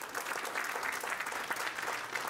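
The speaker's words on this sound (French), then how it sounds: "Applaudissez." An audience at a live comedy show breaks into dense, continuous applause, many hands clapping at once, fairly loud and unbroken for a couple of seconds.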